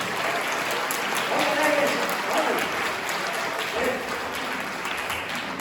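Loud, dense applause from an audience at a Hindi poetry gathering, the Rashtriya Kavi Sangam in Panchkula, filling the room steadily for several seconds with faint voices mixed into the crowd noise.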